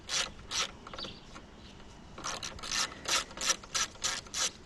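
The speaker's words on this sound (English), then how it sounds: "all I got to do now is just remove those 10mm bolts" Series of quick ratcheting clicks from a wrench backing out 10mm bolts on a 2013 fourth-generation Ram 1500 grille closeout panel, several short bursts with a pause between, close and fairly quiet.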